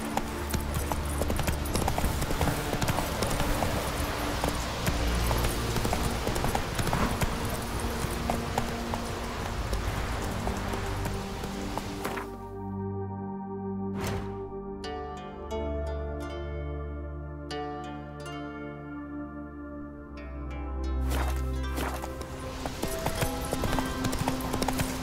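Horse hooves galloping in The Witcher 3: Wild Hunt, a loud steady clip-clop that runs under game music, with a calmer stretch midway before the galloping picks up again.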